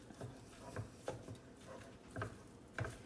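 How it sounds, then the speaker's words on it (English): Shredded chicken fries in a pan over medium-high heat with a low steady sizzle, while a utensil stirs and breaks it up in soft, irregular scrapes and knocks, heard close and quiet. "I'm just gonna keep going around, breaking everything up while it's frying."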